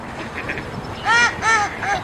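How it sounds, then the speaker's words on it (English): Mallard duck quacking: after a quiet start, three loud, nasal quacks come close together near the end, each ringing with harmonics, with faint background noise throughout. "The mallard."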